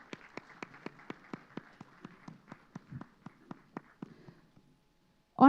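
Sparse, steady hand claps from a small audience greet dignitaries at a lamp lighting ceremony during the Bodh Gaya Global Dialogues, faint and evenly paced for about four seconds before fading out, ending with a sudden louder thump.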